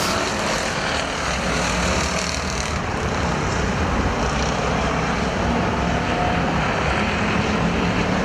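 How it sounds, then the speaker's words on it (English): Factory stock race cars roar around Perris Auto Speedway during a main event, a loud, continuous blended engine drone with no break across the stretch. "First and second, pulling away from the 3rd place car of Carnish"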